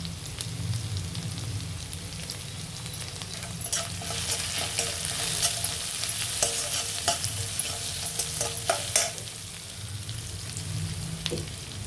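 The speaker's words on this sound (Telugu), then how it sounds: "ఇదిగోండి ఉల్లిపాయలు వేగేవి. ఇప్పుడు పసుపు వేస్తున్నా." Onions fry with turmeric in oil for puri curry, a steady close sizzle under repeated scraping and clattering strokes of a spoon against the pan.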